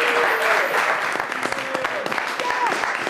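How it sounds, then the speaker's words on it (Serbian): A studio audience on a Serbian television talk show applauds a guest's introduction with dense, sustained clapping, while a voice briefly speaks over the applause. "Veliki aplauz."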